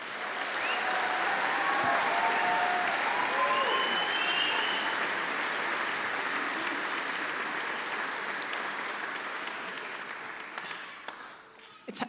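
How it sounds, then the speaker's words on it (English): Sustained audience applause fills a hall after a middle school honors band performance at an all-county school band concert, loud and dense throughout before thinning and fading near the end. "Can we give them a round of applause?"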